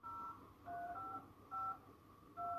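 Telephone keypad tones from a film scene sound as four short, clear beeps at a steady pace over a faint background hum.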